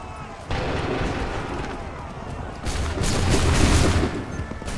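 Musket volleys crack out in Assassin's Creed 3 as lines of soldiers fire on command, loud ragged bursts rolling over a battlefield din, with a heavier volley near the end.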